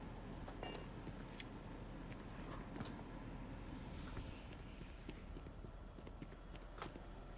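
Heavy hoofed steps of a cow-like alien creature, a lummox, walking in low gravity near a barn in Starfield, a steady clip-clop of footfalls over a dense wash of ambient noise.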